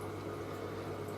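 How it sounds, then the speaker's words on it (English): A small water pump in a paludarium hums and burbles steadily, a faint continuous flow of water with a low tonal drone underneath. "there's a little pump pushing that out faster because I wanted a bit more flow across the top"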